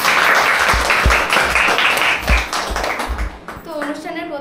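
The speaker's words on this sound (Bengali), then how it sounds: "হাততালি।" Students and guests clap together at a Mahalaya picnic gathering, a burst of uneven hand claps with some louder close slaps, fading out as a voice begins speaking near the end.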